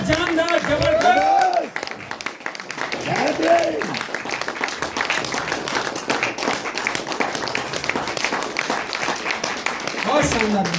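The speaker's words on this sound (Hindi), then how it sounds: "तालियां बजती रहनी चाहिए दोस्तों।" Audience applause at an award celebration on a Shimla tour: steady, dense clapping from a crowd lasting throughout, with a voice speaking through it at times.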